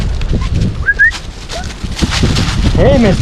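Short human whistles calling puppies back for recall training, a few brief rising tones over a busy outdoor background with animal noise and some voices.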